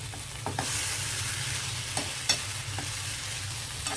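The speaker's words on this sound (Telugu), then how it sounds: "ఇది తాలింపులో వేగాలి కొంచెం తాలింపులో ఇలా మగ్గితే బాగుంటుంది ఆ రుచి" Chana dal sizzles in hot oil for tempering for an ivy gourd and coconut curry, a steady frying hiss broken by a few sharp stirring clicks and scrapes, with no talking.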